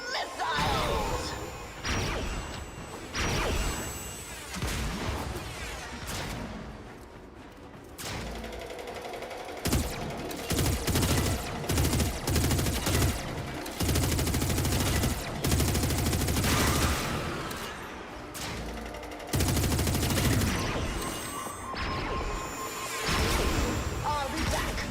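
Warframe gameplay battle with dense bursts of gunfire and missile blasts, loud rapid volleys and heavy impacts in waves, a few quiet gaps between barrages.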